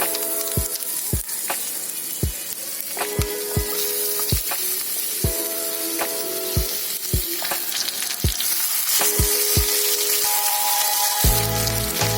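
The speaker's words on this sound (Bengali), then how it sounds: "আলুগুলো মোটামুটি ভাজা হয়ে গেছে" Potato pieces frying in a pan of hot oil, a steady close sizzle broken by repeated sharp clacks of a spatula stirring against the pan.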